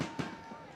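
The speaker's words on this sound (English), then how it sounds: "Fireworks going off to make it even more interesting." Fireworks go off at a high school football game between Clinton and Cedar Rapids Washington in Iowa, two quick distant pops within a fraction of a second over diffuse outdoor stadium ambience.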